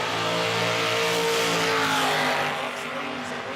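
A stock-car-style drag racer at an IHRA Outlaw Nitro Series event roars down the track, its engine loud and sustained with strong rising harmonics, fading a little toward the end, with no voices over it.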